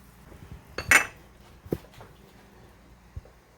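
A Belgian waffle maker being closed and flipped, giving a couple of sharp metallic clunks and a softer knock after, close with quiet pauses between and no talk.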